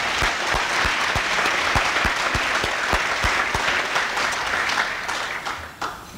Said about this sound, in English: Please give these educators and scholarship supporters